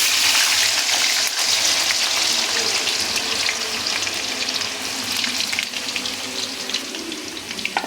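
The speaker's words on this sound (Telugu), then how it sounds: "ఇలా నూనెలో వేసి ఫ్రై చేస్తాను" Potato pieces fry in hot oil with a dense, continuous sizzle and crackle, loud and close, easing slightly toward the end, with no voices.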